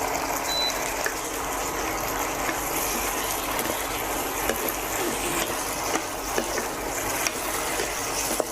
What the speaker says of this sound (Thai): ผมเติมน้ำสักนิดนึงนะครับเป็นน้ำต้มพาสต้านะครับ